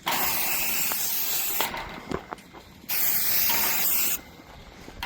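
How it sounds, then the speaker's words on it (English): Two long hissing bursts of an aerosol screwworm fly repellent spray, each lasting over a second, separated by a brief pause with faint handling noises. "So we spray it with this,"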